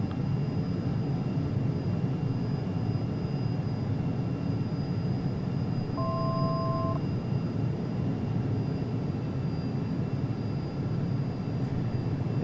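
Steady broadband engine roar of a Falcon 50EX jet flying slowly in the X-Plane VR flight simulator, a continuous even drone with no talk over it.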